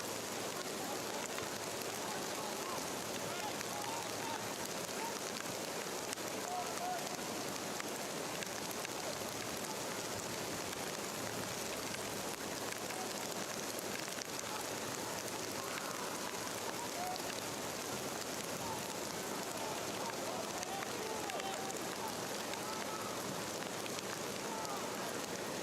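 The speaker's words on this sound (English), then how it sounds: "Long range strike, Colorado trying to test Antonio Carrera in this driving rain" Driving rain falls on an outdoor pro soccer match between North Texas SC and Colorado Rapids 2, a dense, even hiss that stays constant and fairly faint from start to finish.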